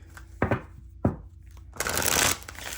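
Tarot cards being shuffled by hand: two quick flicks, then a sustained riffling burst of papery cards, close and clear with no talking.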